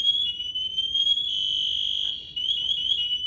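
A loud, piercing high-pitched firefighter PASS device alarm sounds continuously, wavering slightly in pitch, with a brief dip before resuming at full volume.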